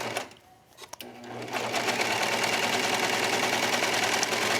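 A serger sewing machine finishes the edge of slippery fabric, starting with a few clicks and then settling into a loud, steady, rapid mechanical whir up close.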